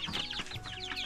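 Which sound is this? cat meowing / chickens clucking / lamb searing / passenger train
chickens clucking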